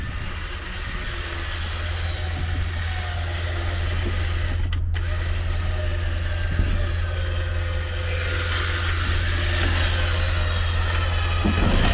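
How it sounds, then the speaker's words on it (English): A winch pulls a stuck vehicle out of the woods near a lava flow, its line run through a snatch block anchored to a tree: a steady, loud mechanical whine and drone with a low engine hum beneath, continuing unbroken throughout. "now we got the winch hooked to that tree, snatch blocked back to the car"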